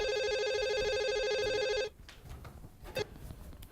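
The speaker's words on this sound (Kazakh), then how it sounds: "Айбол, телефонды ал." An indoor telephone rings with a loud, continuous electronic trill that cuts off abruptly after about two seconds, followed by faint handling sounds and a soft thump in a quiet room.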